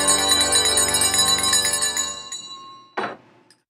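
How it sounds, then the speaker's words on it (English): Bright ringing church bell tones with shimmering overtones sustain and decay, then a short clinking knock near the end. "Church bells."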